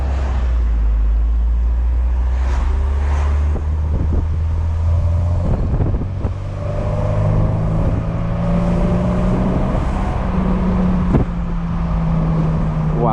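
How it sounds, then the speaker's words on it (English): A 1998 Mercedes-Benz SLK 230 with stock exhaust pulls hard through a turn, its supercharged engine rising in a steady climbing drone and whine, heard from inside the cabin over constant road and wind roar. "Wow, you can hear that supercharger go."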